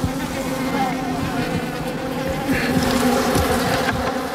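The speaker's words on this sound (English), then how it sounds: "Some of the bees are still fighting back," A swarm of African bees buzzing angrily and continuously as a honey badger raids their hive, a dense close drone with faint background sound.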